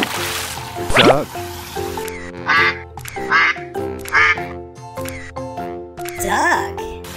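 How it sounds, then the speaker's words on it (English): A duck quacks repeatedly in loud, close bursts, several raspy calls spaced through the stretch with short gaps between them. "Duck."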